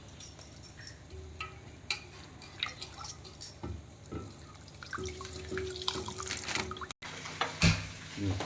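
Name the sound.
squeezing water out of soaked puffed rice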